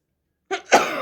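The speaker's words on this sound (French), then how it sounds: "Je vais éternuer." A single sneeze from an adult during a travel day in an apartment, with a sharp intake then an explosive burst, close and fairly loud, alone with no talk.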